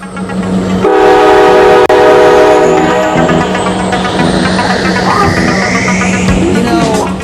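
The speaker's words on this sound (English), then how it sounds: "I can tell Cornut tuned that train by ear. That is loud" A loud, close train horn blares in a sustained chord over the heavy rumble of a passing train, continuing as the cars roll by.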